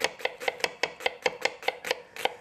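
Knife thinly slicing a mild onion on a board, about eleven quick, evenly spaced crisp cuts in a steady rhythm, close and clear with no speech.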